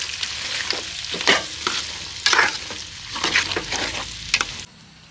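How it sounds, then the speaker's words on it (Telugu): Tiger prawns fry in a pan with onions and curry leaves, a crackling sizzle broken by repeated scraping stirs and bursts of spitting oil, close and loud, then cutting off abruptly near the end. "రొయ్యలు అయితే బాగా ఫ్రై అయ్యాయి. ఇందులోనే ఆనియన్స్, కరివేపాకు 2 వేసి"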